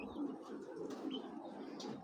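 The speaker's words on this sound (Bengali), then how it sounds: "এটা হলো বিআরপিএফসি ক্লাবের কবুতর" Silver racing pigeons with club tags, a Bagha type, coo softly close by in a loft, a low throaty murmur running through steady background hum, with a couple of faint higher chirps.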